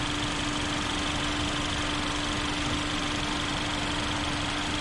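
The 1.6 turbo Smart Stream engine of a 2021 Kia K5 runs at a steady idle with a constant, even drone and a faint tonal hum, heard close with the hood open and no talking.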